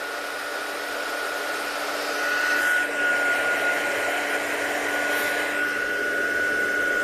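A heat tool blows steadily at close range while heat-setting white embossing powder on a card, a constant whooshing hum that swells slightly partway through.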